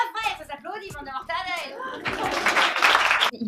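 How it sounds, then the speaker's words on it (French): Studio audience applause breaks out at a French television interview, a dense burst of clapping swelling for over a second after stretches of talk. "ça s'applaudit"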